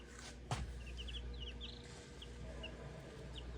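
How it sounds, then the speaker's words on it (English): Faint, scattered chirps and soft clucks from growing young chickens kept warm in a pen, with a single dull thump near the start over a low, steady background hum. "So everybody got to get me some chickens."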